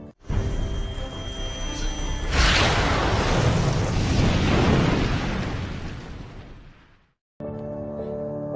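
A loud, roaring explosion from the TV series Agents of S.H.I.E.L.D. swells and rumbles for several seconds before cutting off abruptly, followed by a brief different tone.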